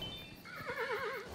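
A horse in the video game Kingdom: New Lands lets out one quavering whinny, clear and fairly faint, over soft background game sound.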